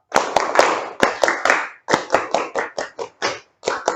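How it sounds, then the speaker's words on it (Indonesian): Scout clap performed by a group in a classroom lesson, sharp close hand claps in quick rhythmic bursts, repeated several times with brief pauses between groups. "2 kali tepuk"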